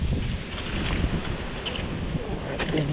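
Strong gusty wind buffets the microphone on an exposed mountainside by a putting green near mountain rental cabins, a steady roaring rush with low rumbling thumps throughout and no speech.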